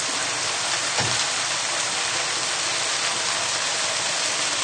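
Stock is poured into browned mince for a shepherd's pie, producing a steady, loud, close hiss that runs unbroken and alone.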